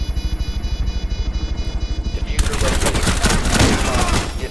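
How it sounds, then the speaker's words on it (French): Rapid rhythmic automatic gunfire in Rainbow Six Siege, loud, close and even, then swelling into a dense, noisy burst of shots and impacts. "Avec le petit coup de flingue qui va bien."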